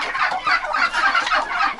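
Hens and turkeys squabble in a farmyard during frosty nights, giving a continuous burst of loud, agitated clucking and squawking close by with no talk over it.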